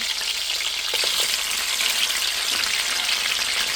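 Steady, loud sizzling of a rohu fish head frying in hot oil in a frying pan, a continuous crackling hiss with small pops throughout.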